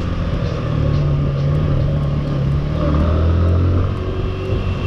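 Engine of a Suzuki Intruder 150 motorcycle while riding in first gear, a steady rumbling drone with slight rises in revs and wind noise, no speech.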